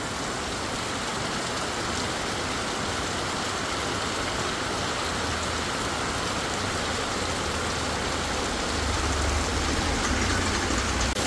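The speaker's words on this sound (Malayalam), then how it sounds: "നല്ല മഴ കേട്ടോ." Steady heavy downpour hisses throughout, with a faint low rumble like an idling engine swelling underneath toward the end.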